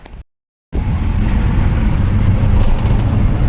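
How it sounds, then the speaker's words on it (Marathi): An auto rickshaw passes along a road, a loud, steady motor and road rumble that rises after a brief dropout and holds close by. "रिक्षा बघ कुठं येते"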